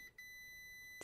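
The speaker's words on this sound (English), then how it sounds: "that is indicated by the sound of the tester" A continuity tester checking a toggle switch gives one faint, steady electronic beep that holds an even pitch for about a second, alone and without talk.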